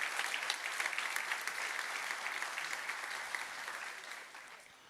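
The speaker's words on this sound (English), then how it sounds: "Give them a round of applause," Conference audience at Security Fest 2024 applauds its sponsors, a steady dense patter of many hands clapping at moderate distance, holding throughout and tapering slightly near the end, with no talk over it.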